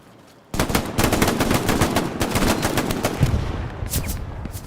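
Gunfire on Omaha Beach in the WWII shooter Hell Let Loose, heard during a competitive match: a sudden loud burst of automatic fire that starts after a brief quiet and keeps rattling continuously with scattered sharper cracks, close and dominant, with no talk.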